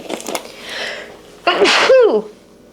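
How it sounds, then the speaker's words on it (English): An older woman gives one sharp, loud sneeze indoors during a quiet conversation, following a soft intake of breath, with the burst ending in a brief trailing vocal tail. "I just sneezed."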